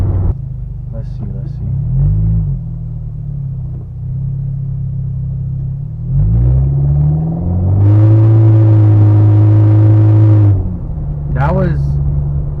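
Aftermarket exhaust on a 2016 Honda Civic rumbling at idle, then blipped several times and held in a sustained rev past 3,000 RPM with a deep, droning tone, close and loud, dropping back to idle; people talk over it.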